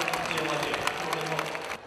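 A crowd cheers and claps as actors appear at the opening of the 19th Jeonju International Film Festival: a dense, continuous wash of applause and cheering with a voice talking over it.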